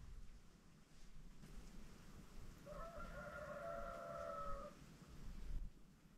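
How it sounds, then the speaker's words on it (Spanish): A rooster crows once, faint and far off, across a quiet Dominican countryside. The call stands out over soft rural background noise. "Oigan cómo suena ese gallo por allá en la distancia, perdido por allá, y se escucha igualito"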